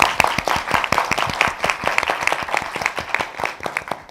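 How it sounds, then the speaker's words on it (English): Audience applause for researchers and panelists at a panel event on AI and workforce development, a steady, fairly loud burst of many hands clapping in quick irregular rhythm throughout. "give y'all one more chance to give a round of applause to the researchers and the panelists"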